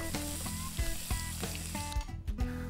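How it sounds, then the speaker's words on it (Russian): Pork belly fries in a pan on both sides for ramen, giving a steady loud sizzle broken by several clattering knocks and scrapes of a utensil against the pan. "Обжариваем с 2 сторон, выделится лишний жир, а грудинка станет красивой и еще более вкусной."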